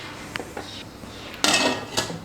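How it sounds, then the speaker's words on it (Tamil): A metal lid goes onto an idli-plate steaming pot holding a cloth-wrapped crumbled idli for puttu, making a few light clinks and then a louder metallic clatter as it settles, with a last clink after it, close by and with no speech. "மூடி போட்டு மூடி வச்சிடலாம்."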